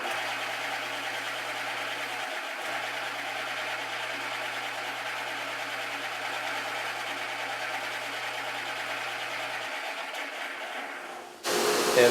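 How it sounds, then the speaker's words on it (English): Radius sander running steadily on a Stratocaster guitar kit, a continuous loud motor whine with a broad buzzing hiss that holds evenly for about eleven seconds before a sudden burst of louder noise at the end. "Okay, back to the radius sander."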